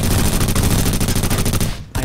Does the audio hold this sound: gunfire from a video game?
yes